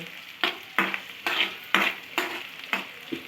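Spices frying in a pan for a spicy bhindi (okra) fry, stirred with about seven sharp scraping strokes in a steady rhythm over a constant sizzle, close and alone with no voices.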